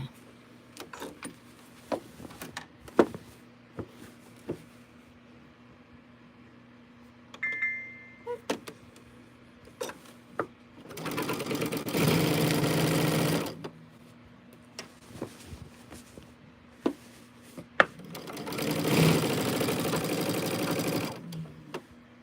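A sewing machine stitches a quilt in two sustained runs of loud whirring, separated by quiet stretches of faint clicks and handling sounds, close to the listener.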